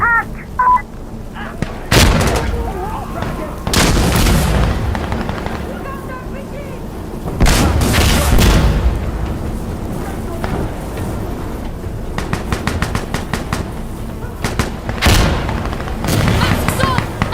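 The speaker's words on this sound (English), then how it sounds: "Mortars incoming!" Mortar explosions and gunfire in the game Insurgency Sandstorm, with loud deep booms at irregular intervals, rattling bursts of automatic fire between them, and shouted voices mixed in.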